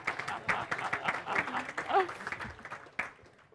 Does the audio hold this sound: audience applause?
yes